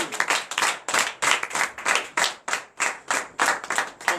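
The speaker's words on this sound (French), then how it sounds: "Donnez de vives acclamations à notre Seigneur Jésus." A church congregation claps in a steady, rhythmic beat, roughly two claps per second, loud and in unison with no voices over it.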